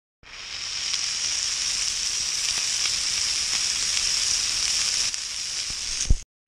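Burgers sizzling in a pan while camping in the woods in the rain, a steady close hiss and crackle with small pops, ending in a sharp clank.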